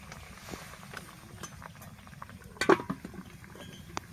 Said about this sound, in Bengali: জলটা ফুটে উঠে গেছে